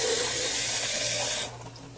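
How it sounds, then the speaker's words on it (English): Water is poured into a pot of sauce, a steady hissing splash for about a second and a half that stops abruptly, leaving quiet kitchen background. "I always add a little bit of water"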